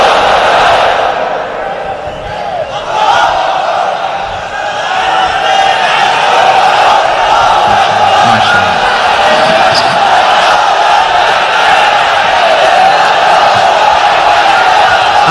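A large gathered crowd chants takbir, Allahu Akbar, in unison in answer to a preacher, a loud continuous roar of many voices that carries through the whole stretch.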